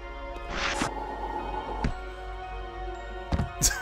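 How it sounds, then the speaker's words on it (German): A splash into water after a jump in the Refunct 2 video game, a short bright burst near the start with lighter watery hits after it, set against a steady ambient hum. "Das war ein Sprung ins Wasser."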